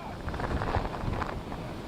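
Strong hurricane winds roar at the New Orleans Lakefront during Hurricane Ida's storm surge, a steady loud rush buffeting the microphone with water churning beneath, while a voice talks faintly under the din.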